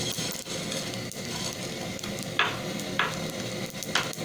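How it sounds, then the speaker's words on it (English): Whole spices for a homemade achari masala are lightly dry-roasting in a pan, giving a steady soft sizzle and rustle. A spoon scrapes and stirs in a few sharp, close strokes. "we have to give a light roast of these spices"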